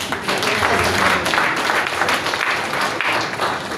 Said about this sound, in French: On peut encore applaudir M. l'abbé.